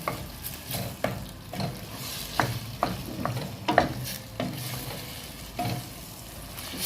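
Chicken and mixed vegetables sautéing in a pan while being stirred, a soft sizzle broken by repeated scraping and clinking strokes of a utensil at an uneven rhythm, close and with no voices.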